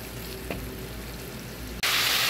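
Spice paste fries in hot oil in a pan for a Bengali prawn kofta curry, a steady close sizzle with one soft stir, then a sudden louder hiss near the end.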